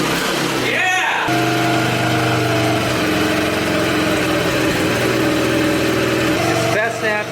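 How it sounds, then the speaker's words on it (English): A 4 wheeler ATV that only runs on choke drones steadily at idle, loud and close, a buzzy, even engine note with a slight pitch shift partway through, running continuously throughout. "It's best to have the engine warmed up and then set your idle where you want it."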